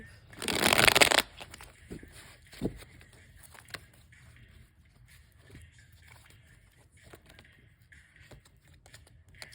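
A brisk burst of tarot cards being shuffled, loud and close, followed by quiet handling with scattered soft taps and clicks.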